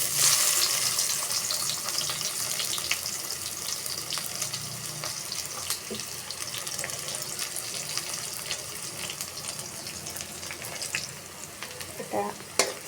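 Chopped onion and chillies fry in oil in a wok, a continuous bright sizzle with sporadic crackles and spatula scrapes, easing slightly toward the end.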